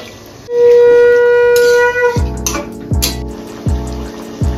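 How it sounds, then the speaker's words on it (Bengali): Water running from a tap, a loud steady gushing stream that stops after a couple of seconds, followed by a few clattering knocks of a cooking pot being handled in a home kitchen in Kolkata, with no talking. "জল ছেড়ে দেবো।"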